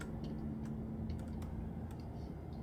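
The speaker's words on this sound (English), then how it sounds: "I said just start typing." Quick, light keystrokes on a computer keyboard tapping in an irregular rhythm, close and fairly quiet over a low steady hum, with no voices.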